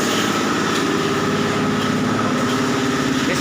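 A grinding machine at a village recycling facility processes inorganic waste, giving off a continuous close motor drone with rapid pulsing chatter and no voices.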